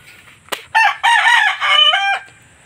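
A red jungle fowl cross rooster crows loudly and close by, one full drawn-out crow with a short sharp note just before it, alone with no talk.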